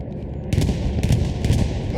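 Bombs from a bombing run in the WWII shooter Hell Let Loose burst in a rapid series of loud, booming blasts and crackles over a continuous rumbling battlefield din.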